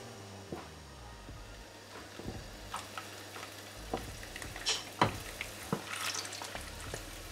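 Garlic frying in olive oil in a pan, a quiet steady sizzle broken by scattered clicks and stirring scrapes that grow busier toward the end.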